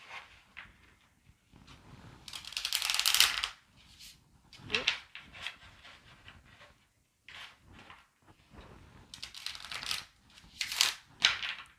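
Tarot cards riffle and slap together in short bursts of crisp shuffling, with pauses between, close up; a brief spoken word.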